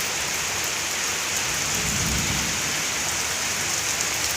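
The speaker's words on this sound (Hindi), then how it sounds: "सच में बहुत ज़्यादा बारिश हो रही है।" Heavy nighttime downpour hammers steadily with a dense, unbroken hiss, while a low thunder rumble swells through the middle and fades; no voices.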